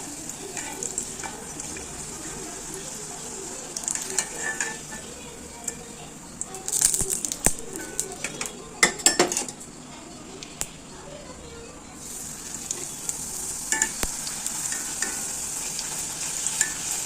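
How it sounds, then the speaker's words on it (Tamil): Puris fry and puff in hot oil with a steady bubbling sizzle, broken by clattering scrapes and taps of a ladle in the middle, heard close with occasional background voices. "நல்லா எண்ணெய் காஞ்ச எண்ணெய் போட்டால் தான் பூரி நல்லா உப்பி வரும்"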